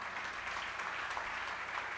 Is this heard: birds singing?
no